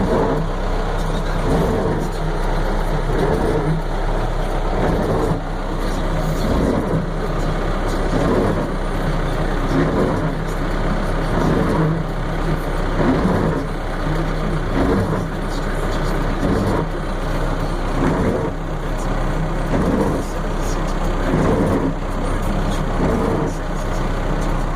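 A truck maneuvering through a snowy Walmart parking lot during a blizzard, its engine a steady low rumble that holds loud and continuous, with rhythmic pulsing throughout and no talking over it.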